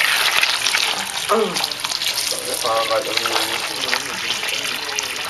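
Water splashes and trickles steadily throughout, with voices talking over it.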